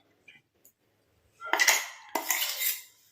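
A spoon scoops thick dry-coconut and curry-leaf hair-dye paste into a bowl. After a couple of tiny taps come two close, scraping scoops, each a loud metallic rasp that fades out.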